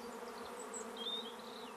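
Honey bees buzz at a beehive in a faint, steady drone, with a few higher whining tones from individual bees drifting past.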